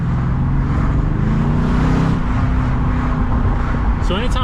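A Mercedes C63S accelerating hard with its wheels spinning, the loud, steady engine roar droning close and continuous, with a brief rising whine near the end.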